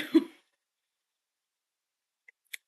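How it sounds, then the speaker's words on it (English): A single short dry cough, close and sharp, then near silence broken by two faint clicks. "it's just a dry cough"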